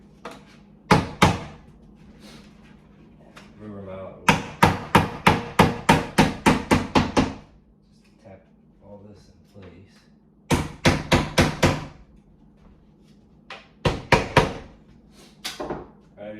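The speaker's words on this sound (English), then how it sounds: "I got a little block of wood and a hammer." Sharp hammer blows on a wooden block, struck in quick bursts of several taps each, separated by short pauses, close and loud.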